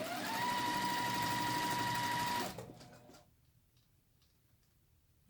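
A sewing machine stitches quilt block units together for a nine-patch block, running loud, steady and fast for about two and a half seconds, then stopping abruptly and leaving faint handling noises.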